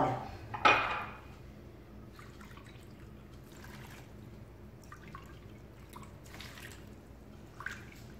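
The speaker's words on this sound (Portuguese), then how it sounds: "Então, nós vamos colocar água," Water poured from a measuring cup into a cooking pot for tangerine jam: a short splash near the start, then faint, scattered drips and trickles in a quiet kitchen.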